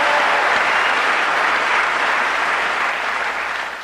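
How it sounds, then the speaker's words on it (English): A live show audience's applause, steady clapping filling the whole stretch at full loudness before tapering slightly at the end, no voices on top. "Now give yourself a smattering of applause"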